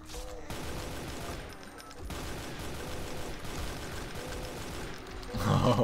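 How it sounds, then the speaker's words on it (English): Shotgun blasts and combat in the Brutal Doom video game form a dense, steady wall of gunfire and roaring noise, ending in a louder, harsher burst. "Let me just do this, because this guy's got a shotgun."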